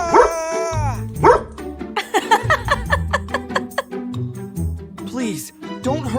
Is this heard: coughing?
no